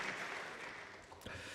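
A church congregation at a Korean Presbyterian Sunday afternoon service claps in a dense, even burst of applause that fills the room at moderate volume, with a brief sharper clatter near the end.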